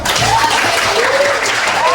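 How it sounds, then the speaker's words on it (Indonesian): A classroom of students applauds together, a continuous clatter of many hands with a voice speaking over it throughout. "Tepuk tangannya dulu."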